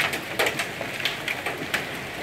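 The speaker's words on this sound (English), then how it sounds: "it's rain and hail" Rain and hail fall steadily outdoors, a dense continuous patter broken by sharper scattered impacts, loud and close with no voices.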